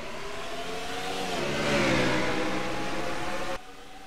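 Race cars in a racing video game at Watkins Glen surge away on the green flag, a mid-pitched engine note rising steadily as the pack accelerates, loud and sustained before cutting off abruptly.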